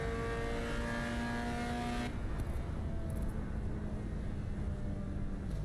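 A hypercar engine drones steadily with a high, tonal whine in a racing video game license test, then the note drops away as the car downshifts, leaving a rougher, lower engine rumble.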